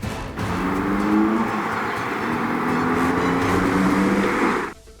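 A cartoon car engine drones steadily and fairly loud for several seconds, a low humming tone that cuts off abruptly near the end.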